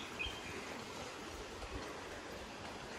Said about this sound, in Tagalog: Naririnig ko ang agos. Ang agos ng tubig.